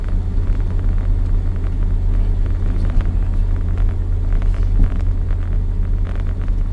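A cammed and tuned BMW 325is EVO1 with a 2.9L stroker engine idles at about 1,500 RPM, giving a steady, loud, close low rumble with a slightly uneven lope and no talk over it.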